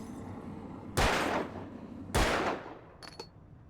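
Two loud, close gunshots from Alan Wake boom about a second apart, each with a ringing tail, followed by a faint metallic click and a quieter ambient bed.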